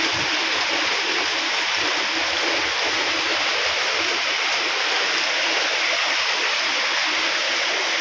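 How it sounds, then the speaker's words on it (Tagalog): Floodwater rushes across a farm in a steady, dense roar that never lets up, close and full with no voices over it. "baha grabe"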